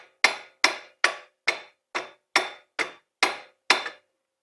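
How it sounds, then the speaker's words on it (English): A hammer strikes the lower control arm of a Can-Am Traxter utility vehicle during wheel bearing work, delivering nine sharp, evenly spaced metallic blows close up with no talking. "We're hitting the lower control arm."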